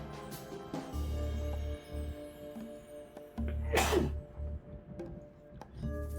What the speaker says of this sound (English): Sorry, he sneezes.